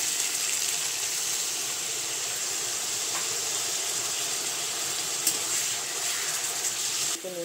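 Spice paste of chopped green chili and ginger paste with salt sizzles and hisses steadily in a pan, a continuous close frying sound with no talk over it.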